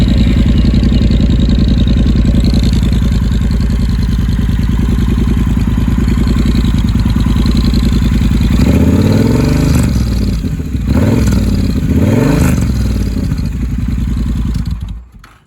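A 2020 Triumph Bonneville Speedmaster motorcycle idles with a steady, loud, close mechanical thrum, then several quick throttle blips rise and fall as the engine revs before settling back, all without talk.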